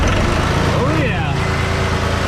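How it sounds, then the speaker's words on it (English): A John Deere tractor engine on a hay farm rumbles at a steady idle, a loud low chugging throb that holds throughout with a brief warbling whine near the middle. "let's see if the John Deere is gonna start today"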